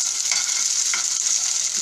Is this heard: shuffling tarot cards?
no